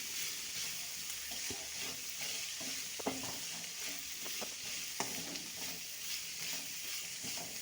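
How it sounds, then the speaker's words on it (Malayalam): Beans tossed with curry leaves and green chilies in a pan, giving a soft, steady sizzle with occasional scraping clicks of the spoon, fairly faint and close, with no voices. "എന്നിട്ട് നന്നായിട്ട് ഇത് മൂന്നെണ്ണം കൂടെ നന്നായിട്ട് മിക്സ് ചെയ്ത് കൊടുക്കുക."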